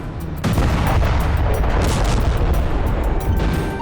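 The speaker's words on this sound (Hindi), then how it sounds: "ये सीसीटीवी फुटेज दक्षिणी जापान के मियाजाकी हवाई अड्डे की है, जहां एयर स्ट्रिप के पास ब्लास्ट होता दिखाई दिया।" A bomb blast near the airstrip at Miyazaki airport in southern Japan, caught on CCTV, as a sudden loud boom that bursts in and keeps roaring and rumbling for several seconds, with no talk.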